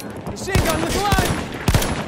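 Machine gun fire in a video game battle, rapid loud bursts of shots close by amid chaotic combat noise, with voices shouting underneath.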